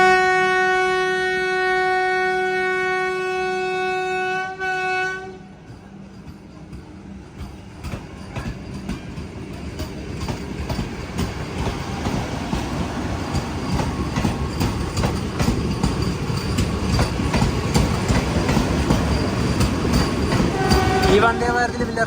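Vande Bharat train from Mangaluru Central to Madgaon, Goa, heard from inside as it approaches Mangaluru Central station: a steady tonal hum for a few seconds, then a building rumble of rolling wheels and rhythmic track clatter that grows louder.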